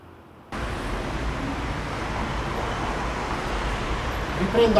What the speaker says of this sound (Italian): vi posso dire che c'è un traffico molto intenso.